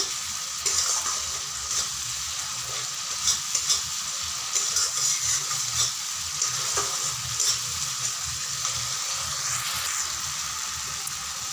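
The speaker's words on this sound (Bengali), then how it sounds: "যতক্ষণ না তেল ছাড়বে ততক্ষণ ধরে কষাতে হবে, এভাবে নাড়া দিয়ে দিয়ে কষাতে হবে" Spice paste for an egg curry sizzles steadily in oil while a spatula stirs it with repeated scraping strokes, close and continuous throughout.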